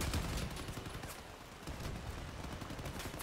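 Rapid video-game gunfire hammering away at a player's defensive turrets, a dense continuous fusillade of shots throughout, loud and close with no voices.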